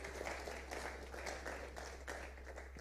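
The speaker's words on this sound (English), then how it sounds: "A better round of applause for the chairman" A room of attendees at an electoral commission briefing claps for the chairman, a short, fairly faint patter of applause over a low steady hum.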